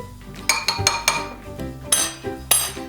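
Ramen noodles stirred in a pot, a utensil clinking and scraping against the metal in an uneven rhythm of loud, close knocks, with no one talking.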